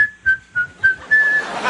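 A person whistles a short tune, five clear sustained notes in a broken rhythm with brief gaps, close and alone, the last note held longest over rising room noise.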